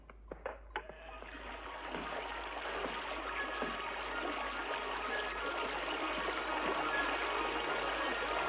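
Water released through an opened sluice rushes into a stream with a steady broadband gush after a few opening knocks, building slightly and continuing loud and close.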